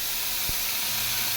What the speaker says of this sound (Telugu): ముందుగా స్టవ్ మీద కడాయి పెట్టి అందులో కరివేపాకు, పోపు దినుసులు వేసి కొద్దిసేపు వేగనివ్వాలి.